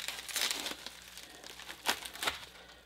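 Packaging of new bushcraft gear being cut open with a knife gives soft crinkling and rustling with a few brief scraping bursts, close and quiet, with no talk.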